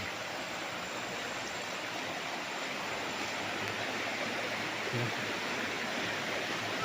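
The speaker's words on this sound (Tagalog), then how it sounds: "Ito yung ilog, ang ganda. Ang linaw ng tubig." A clear river near a farm lot in Liliw, Laguna, partly dammed to deepen it, rushes in a steady, dense wash of flowing water that holds constant throughout with no voices.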